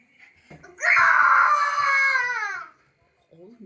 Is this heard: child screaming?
yes